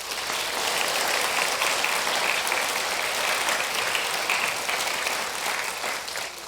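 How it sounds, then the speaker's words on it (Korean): Church congregation applauding together during an evening service, a dense, steady wash of clapping sustained at an even level throughout, with no talking. "함께 가는 우리 팀원들을 위해서 사랑과 마음을 담아 박수 한번 할까요?"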